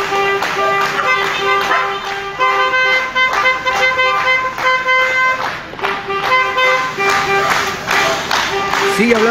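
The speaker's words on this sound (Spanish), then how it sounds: "los autos haciendo sonar sus bocinas" Car horns honk repeatedly in a busy street, long steady blasts overlapping with crowd noise and voices throughout.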